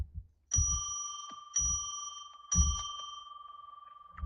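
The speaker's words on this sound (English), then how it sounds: "So why don't we just ring our bell 3 times to declare sacred space" A bell rung three times in a steady pattern, each strike sharp and clear with a long ringing tone that lingers between hits, close and alone with no talking.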